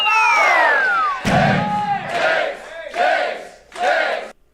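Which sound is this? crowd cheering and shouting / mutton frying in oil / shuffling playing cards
crowd cheering and shouting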